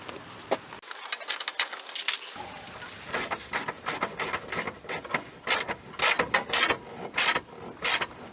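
Wrench cranking down bolts through drilled holes while fitting a rear diffuser to a 2008-2017 Dodge Challenger: a steady run of close, rapid metallic ratcheting clicks and clinks, loud and alone.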